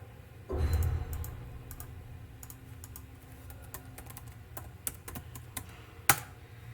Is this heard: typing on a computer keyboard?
yes